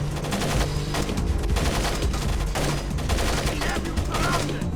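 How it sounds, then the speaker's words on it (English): Sustained automatic enemy gunfire in Splinter Cell, loud and dense, with rapid shots rattling almost continuously and a faint voice underneath. "I think I'm getting shot at right now."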